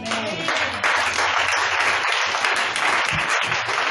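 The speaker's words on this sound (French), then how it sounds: "Acclame Jésus" A church congregation bursts into loud, sustained applause in acclaim of Jesus, dense clapping filling the room without pause.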